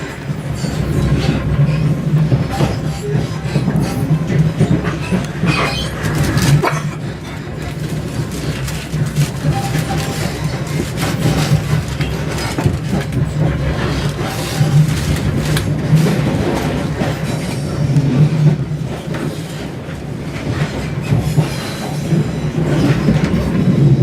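A passenger train runs on rails toward Sheffield, heard from inside the carriage as a loud, continuous rumble with rhythmic clickety-clack from the wheels and brief squeals, with no break throughout.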